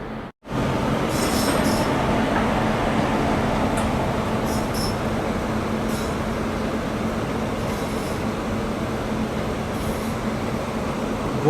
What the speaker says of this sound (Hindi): गोंदिया जबलपुर पैसेंजर ट्रेन अभी दूसरे प्लेटफॉर्म पे आई है